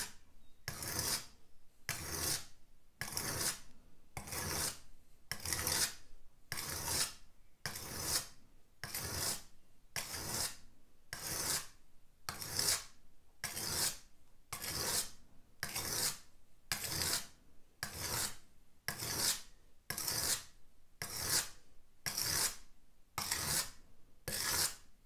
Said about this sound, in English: the knife is going to come into contact with the stone, and I'm going to hold it at a certain angle